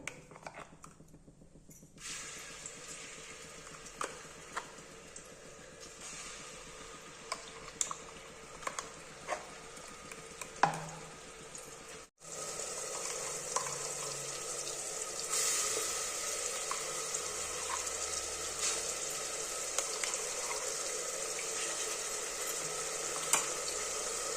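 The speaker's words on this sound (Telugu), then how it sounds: "మిక్సీ పట్టుకున్న మసాలాని ఇందులో వేసుకుందాం." Ground masala paste frying in oil inside a pressure cooker for a country chicken curry, a steady sizzle that starts quieter and grows louder and denser partway through, with occasional clinks and taps of stirring on the pot, no talking.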